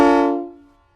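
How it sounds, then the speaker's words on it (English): A single loud, brassy train horn fitted to a car, rich and multi-toned, fading out within a second. "So he's got some sort of train horn hooked up."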